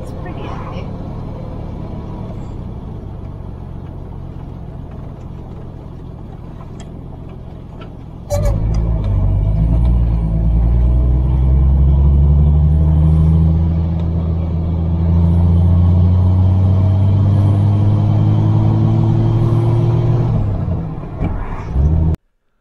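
A 1949 Rover P3 car drives along a coastal road. The engine settles into a louder, steady rumble, rises in pitch as it accelerates, then cuts off near the end, under continuous talking.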